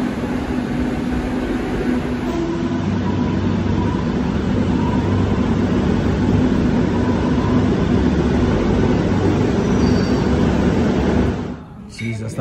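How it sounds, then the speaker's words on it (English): A Madrid metro train rumbles steadily for a long stretch during a ride, its loud constant drone filling the carriage before it drops off sharply near the end. "Going on the metro in Madrid for the very first time."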